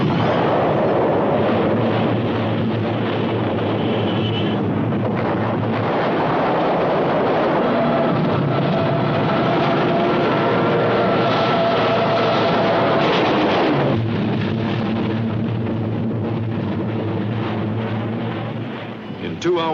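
Land-based high-level and torpedo bombers attacking the battleships Prince of Wales and Repulse with destroyers, a continuous loud roar of aircraft engines, gunfire and explosions under a narrator's voice.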